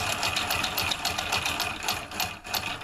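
A homemade two-solenoid electric motor runs with one of its solenoids disconnected, giving a steady, fast mechanical clatter with a regular pulsing rhythm, fairly close and continuous throughout.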